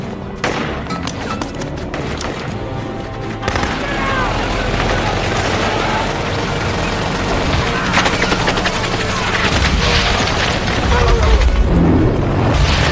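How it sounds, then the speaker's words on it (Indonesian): Dense, loud helicopter machine-gun fire in a Black Hawk Down film battle scene, rapid sustained bursts mixed with heavy booms and a roaring rotor drone, continuous throughout. "ia pun langsung meluncurkan tembakan bertubi-tubi yang membuat pasukan Aidid kocar kacir"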